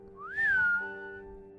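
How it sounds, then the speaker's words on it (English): In a quarry, a single brief whistle slides upward, peaks and settles into a steady tone before fading. It sounds clear and fairly close against a quiet background hum. "that's when we heard another whistling sound"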